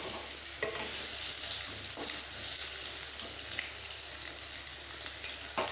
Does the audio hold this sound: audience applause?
no